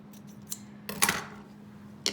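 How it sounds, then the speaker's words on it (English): Scissors cut lengths of olive ribbon, each piece about 4 inches, for a buckle fold card. A few crisp, close snips sound with quiet pauses between them, the loudest near the middle and another at the end. "I'm going to cut some of this beautiful olive ribbon"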